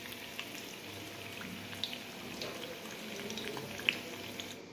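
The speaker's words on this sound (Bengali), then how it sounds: "লো টু মিডিয়ামে রেখে আমি পকোড়াগুলো ভেজে নিচ্ছি।" Lentil pakoras frying in oil over low to medium heat, a faint, steady sizzle with soft bubbling and a few small pops.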